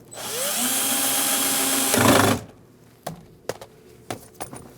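Power drill driving a screw into a car window regulator assembly on a 2004-2012 Chevrolet, a loud continuous whir with rising pitch for about two seconds, then stopping, followed by a few sharp clicks and knocks.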